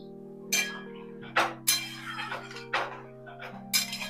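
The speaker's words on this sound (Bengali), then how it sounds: "এখানে 1 চামচ মতন কর্নফ্লাওয়ার আছে, এইটাকে জল দিয়ে গুলে নিচ্ছি, অল্প পরিমাণে জল দিয়ে।" Cornflour being stirred with water in a bowl: a spoon gives about six light clinks and taps against the bowl, close by, over a steady humming kitchen background.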